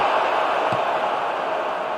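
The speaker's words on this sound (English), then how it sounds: "Crowd calling for him to shoot" Steady, dense crowd roar from a football match in the eFootball 2022 video game, a broad continuous stadium wash urging a player to shoot, with a brief low thump near the middle.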